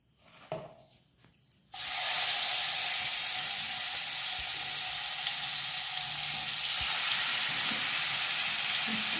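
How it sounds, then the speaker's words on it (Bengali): Marinated tandoori chicken is dropped into hot white oil, bursting into a loud, dense, steady sizzle that fills the rest of the clip after a few soft handling clatters. "মশলা মাখা চিকেনটা আমি তেলের ভিতর দিয়ে দিচ্ছি।"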